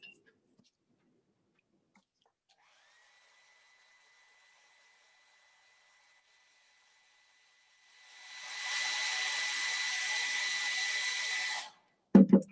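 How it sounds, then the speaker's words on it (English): A blow dryer switches on with a faint whine, then roars into a loud steady rush of air for about four seconds while drying wet paint on a wooden clothespin for a craft wreath, then cuts off. "I can go ahead and hit one with the blow dryer"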